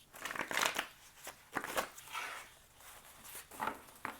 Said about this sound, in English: Trying to get a good shuffle in before I cut the deck.